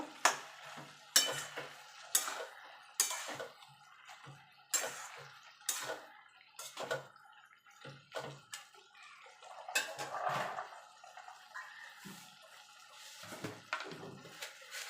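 Cabbage, potato and peas curry stirred in a wok, with a series of irregular scraping and clattering strokes of a utensil against the pan, some over a faint sizzle, close and moderately loud with quiet gaps between.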